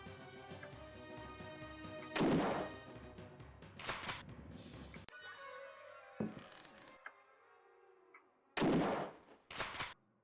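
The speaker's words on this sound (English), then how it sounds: "We'll just give the gun a go." Gunshots ring out in the video game Alone in the Dark: several heavy, booming blasts, spaced a second or more apart, over a sustained background music bed.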